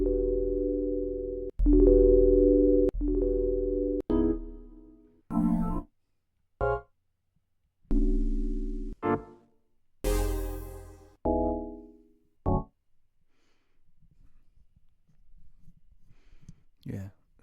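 House music samples play back in FL Studio: a run of sustained harmonic synth chords and stabs, several short plucked notes and a noisy burst, each separated by brief gaps, loud and clean before a faint tail.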